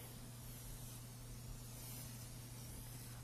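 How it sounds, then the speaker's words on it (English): Cooking spray hisses onto a sheet pan in a kitchen, one steady, faint, continuous spray that lasts about three seconds over a low constant hum, with no talk. "So then I'm going to go ahead and spray my sheet pan"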